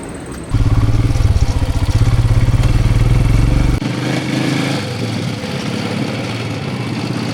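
Motorcycle engine running loud and close during a ride on rough roads near the Himalayas in Nepal, a steady throaty drone that drops in level partway through and carries on as a lower, duller rumble.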